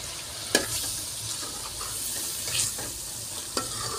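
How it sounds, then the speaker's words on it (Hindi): Chickpeas hitting roasted masala in a pan for chana pulao, a steady sizzle with a few sharp clatters and stirring scrapes over four seconds, no voices. "माशाल्लाह मिसाला हमारा भुनाई हो गया है, तो इसमें अब चने डाल देती हूँ।"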